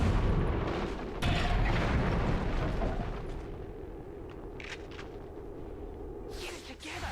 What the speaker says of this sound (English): The grenadier's grenade.